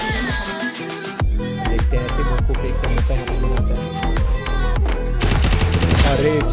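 Rapid bursts of automatic gunfire in a shooting video game, loud and close, with rhythmic repeated shots layered over game music and effects.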